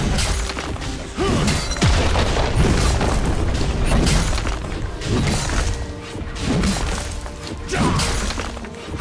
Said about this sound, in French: Votre équipe a détruit une tourelle.